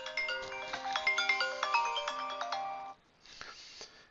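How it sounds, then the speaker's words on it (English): A phone ringtone plays a bright, repeating melodic tune for about three seconds, then cuts off and is followed by a fainter tail of tones, sounding alone in the background without talk. "Sorry, that was my phone ringing in the background."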